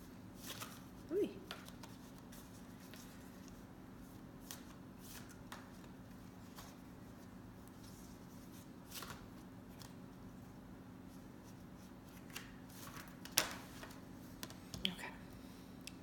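An oracle crystal card deck being shuffled and handled, heard as faint, scattered papery flicks and soft taps over a low steady hum, quiet and close.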